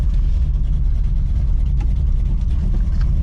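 A Dodge Ramcharger with its hood half popped pulls away slowly in first gear, its engine a steady, loud low rumble that fills the whole stretch without pause.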